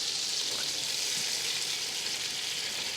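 Onions frying in a pot for French onion soup, a dense, even hiss of sizzling fat held steady and close for a few seconds, with no voices.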